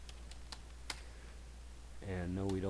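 A VNC password typed on a computer keyboard: a few sparse key taps, then a voice speaks over the end.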